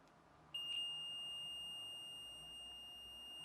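A multimeter set to continuity emits a single sustained high electronic beep that starts sharply and holds steadily, loud and close against faint room noise.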